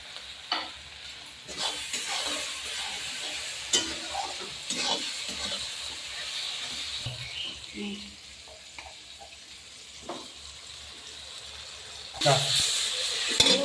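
Onions sizzle in hot oil with a pinch of salt and sugar for a rui fish curry, a steady frying hiss with scrapes of stirring and a louder sizzle burst near the end, while someone speaks over it.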